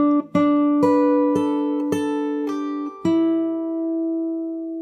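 Fingerstyle acoustic guitar playing the outro of a song: a few plucked notes and chords ring out clearly one after another, ending on a sustained, fading chord, with no talking.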